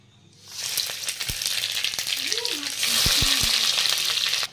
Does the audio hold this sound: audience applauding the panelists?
no